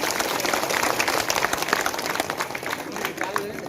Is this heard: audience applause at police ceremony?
yes